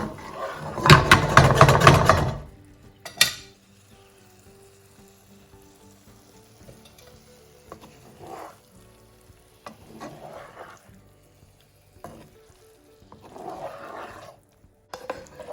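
Aubergines hit a hot pan with a loud burst of frying that fades to a quiet sizzle, followed by gentle turning and soft pan scrapes.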